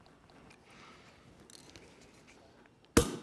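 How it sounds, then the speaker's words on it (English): Prosecco bottle cork popping open with a single sharp burst, loud and close, standing out after a quiet stretch of faint room noise. "Now I'll let you do the honors and pop that Prosecco."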